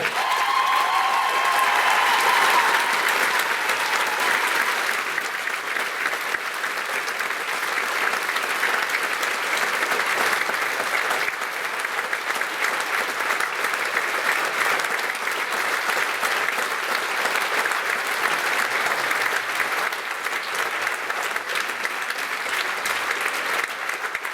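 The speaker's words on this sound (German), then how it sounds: "deswegen einen riesigen Applaus für Ida von Hardenberg" A large school-leavers' variety show crowd gives a long, sustained ovation, a thick, even roar of clapping that holds strong throughout, with a faint whistle near the start.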